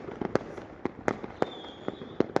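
Firecrackers and fireworks pop at Vietnamese Lunar New Year in a scattered series of sharp, irregular bangs, some nearer and some distant, over a low background rumble.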